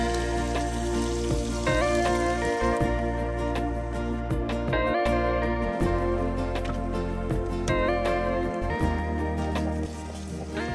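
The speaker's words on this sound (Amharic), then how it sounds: "አሁን እንቁላል እንጨምራለን ማለት ነው እዚህኛው ድስት ላይ።" Egg frying in hot oil in a pot gives a steady, loud sizzle with crackling spits and pops throughout, close up and without any voices.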